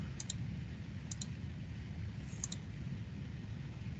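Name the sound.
mouse clicking while using Onshape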